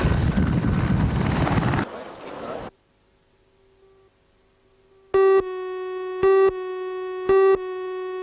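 A twin-engine Squirrel rescue helicopter thuds and whines loudly for about two seconds before fading, followed by a silent gap and then a pulsing electronic tone.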